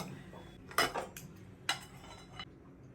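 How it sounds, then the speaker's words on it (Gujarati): Potato poha scooped from a pan into a serving bowl, with a few sharp metallic scrapes and clinks of a spoon against cookware over a quiet kitchen background, no talking. "અને એને હલાવો, ગેસ કરો બંધ અને એક સર્વિંગ બાઉલમાં કાઢો."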